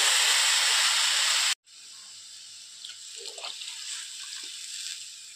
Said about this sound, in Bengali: ভালো করে কষানো হয়ে গিয়েছে, এবার দিয়ে দেবো পরিমাণ মতো জল।